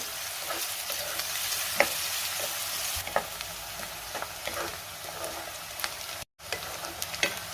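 Finely chopped onion sautés in a pan for a chana masala, a continuous moderate sizzle broken by occasional scraping and clinks of a stirring spoon, with no talking.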